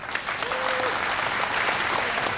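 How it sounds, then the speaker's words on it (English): Crowd at a televised vocal competition claps for a panel judge, continuous dense applause with a short voice briefly over it. "Thank you, and round of applause for Jaggerizza."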